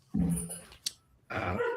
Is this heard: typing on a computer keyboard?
no